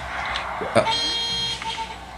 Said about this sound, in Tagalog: Ada bus-busina nagitilugan. Makatitiling ti busina dagita.